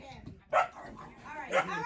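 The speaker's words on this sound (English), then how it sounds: "No more barking." Dogs in a car let out two short, fairly loud barks about a second apart, mixed with a person's speech and a low background rumble.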